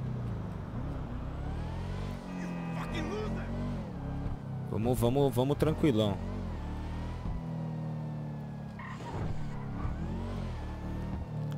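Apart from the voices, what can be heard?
car accelerating in video game GTA V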